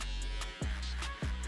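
Electric shaver buzzing steadily and close during a fade haircut at a barber's, its tone dropping in short dips as it is pressed against the hair, no talking.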